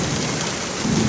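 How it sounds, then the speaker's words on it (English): Loud rumble of thunder from lightning in a storm, a dense continuous roar mixed with heavy rain, swelling slightly toward the end, with no voices. "These lightning bolts, man, these lightning bolts are crazy."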